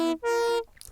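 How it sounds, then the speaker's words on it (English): Synth chord from a detuned sawtooth patch with two voices detuned by a fifth, played dry with no effects: two short, bright, buzzy sustained stabs, loud and close, then silence. "this is a detuned saw with two voices, and it's detuned by fifth."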